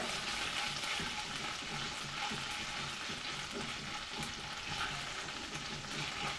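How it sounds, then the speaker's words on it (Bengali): Ginger-garlic paste fries steadily in a pan, a continuous dense sizzle with faint stirring scrapes throughout and no voices. "আদা রসুন বাটাটাকে ভালোভাবে কষে নিব যাতে কাঁচা গন্ধটা চলে যায়"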